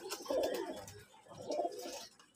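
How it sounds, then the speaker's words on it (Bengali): Pigeons coo in a loft where young birds are being raised, two soft rounded cooing phrases rising and falling close by with no talk over them. "তো আমি দেখাই কবুতরগুলো"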